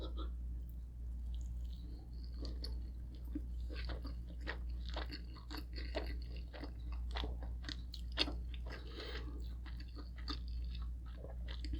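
Someone eats roasted pork belly roll with gooey eggs and white rice at a Filipino breakfast, close-up wet chewing and soft crunchy bites over a low steady hum.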